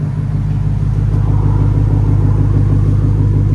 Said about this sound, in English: Nice idle to it.